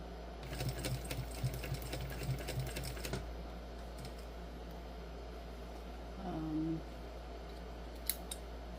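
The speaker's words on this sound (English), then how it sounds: "Because I'm done my top stitching" A sewing machine top stitching a Zuri crossbody bag runs in quick, steady bursts for about three seconds, then stops, leaving a quiet hum with a few faint clicks and a brief low tone.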